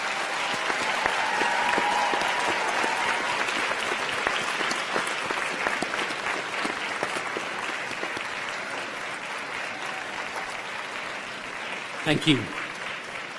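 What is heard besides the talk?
graduation audience applause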